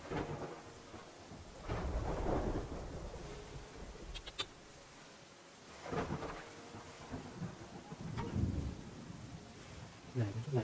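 Steady rain falls in the video game Terra Nil while deep thunder rumbles roll in repeatedly, loud and booming, with a brief sharp crack partway through.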